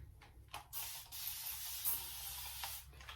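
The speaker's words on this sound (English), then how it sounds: "just a spray bottle with water" A few quick hissing bursts from a spray bottle, close and fairly soft, each spritz a short whoosh of mist with quiet gaps between.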